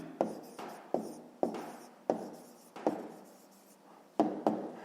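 A pen writes an answer in a notebook for a fifth-grade maths exercise, with short scratchy strokes and light taps on paper. The strokes come in quick bursts with short pauses between them. Close and fairly quiet, with no talk.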